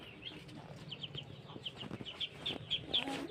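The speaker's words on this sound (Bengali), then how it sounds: "আর এটা হাঁস মুরগি।" Backyard poultry, hens and ducks, kept near a kitchen in a garden, give a series of short, fairly close clucks and squawks that grow louder toward the end over low background noise.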